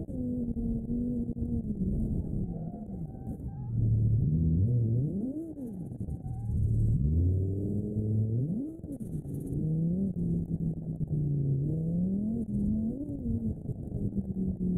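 A 2.5-liter inline-five car engine in BeamNG.drive revs repeatedly, its pitch sweeping up and down in steady, loud bursts with no talking.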